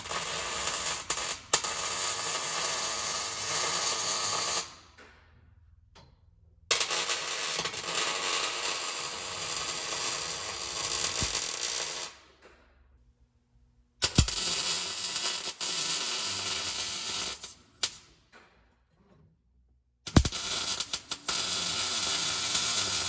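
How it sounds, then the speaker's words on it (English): Welding on a Crown Victoria being built into a race car gives off a steady crackling hiss in several long runs of several seconds each, broken by short silent pauses. "let's start welding"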